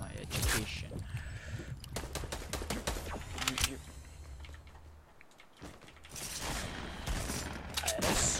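Rapid bursts of video game gunfire from several shooters crackle in clusters throughout, loud and close, with a voice talking over them.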